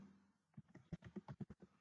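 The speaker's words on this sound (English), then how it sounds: "Next I'm typing print" Quiet keystrokes on a computer keyboard while code is typed in a Python editor: a short run of about nine close, crisp taps that starts after a brief silence and falls into an uneven, quick rhythm.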